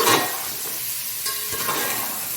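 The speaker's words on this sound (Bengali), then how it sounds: "আলু আর পেঁয়াজটা ভালো করে ভেজে নেব" Potatoes and onions fry and sizzle in a pan, stirred close up, with a strong scrape at the start and then a steady crackling hiss, no voices.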